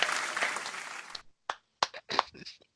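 A crowd breaks into dense, loud applause for about a second before it cuts off, followed by several sharp, separate claps spaced out in near silence.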